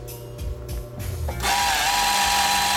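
Singer 20U industrial zigzag sewing machine stitching back and forth, starting with a few uneven mechanical thumps before settling into a loud, fast, steady whirring rattle up close.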